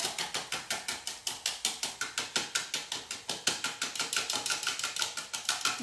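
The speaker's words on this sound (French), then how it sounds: "on ne veut pas les monter en blanc, on va juste les émulsionner un peu" A small magic-spoon whisk beats eggs in a little cup, a fast steady run of clicking, rattling strokes that goes on without a break, up close and with nobody talking.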